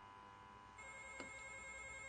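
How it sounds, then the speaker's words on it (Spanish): A telephone bell starts ringing partway through, a steady bright electronic ring over a quiet indoor background, moderately close. "Dame el teléfono, Miguel."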